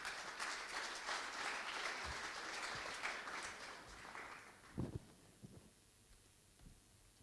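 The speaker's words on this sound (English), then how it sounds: "please give our speakers a warm round of applause" Audience applause at a conference panel on war in the digital age fills the room for a few seconds, then thins out to scattered claps and fades away; no one speaks over it.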